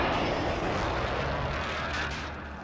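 A helicopter flying in a multiplayer shooter video game, a loud, dense rotor-and-engine roar that fills the clip and fades slightly at the end.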